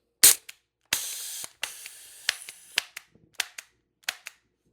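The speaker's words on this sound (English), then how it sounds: "Losing too much gas with it, so I'm probably not going to be able to shoot anything with it, but let's try it again anyways." Shots from a TR50 Torpedo air gun that is leaking gas: a sharp loud crack, then a longer hissing gas burst, followed by a series of brief pops and short hisses, close up with no talking.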